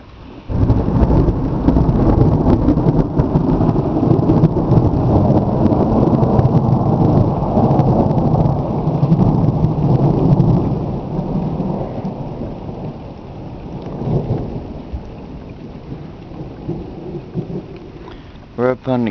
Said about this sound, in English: that big thunder. You can feel it shake through the rock to the floor.